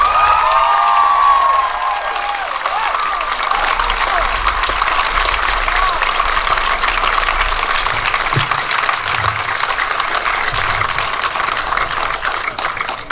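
A large comedy-show audience applauds with a dense, steady wash of clapping that holds loud throughout, with faint cheering mixed in.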